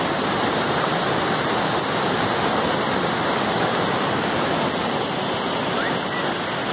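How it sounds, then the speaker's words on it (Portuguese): A steady, loud roar of falling water, continuous and unbroken throughout, close by. "vamos descansar e curtir uma cachoeira"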